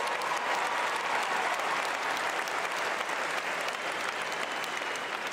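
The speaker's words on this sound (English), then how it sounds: "Get another round of applause for our wonderful choir under the direction of Director Cook." An audience at a high school graduation ceremony applauds a choir, a dense, sustained wash of clapping from a large crowd held at even loudness throughout.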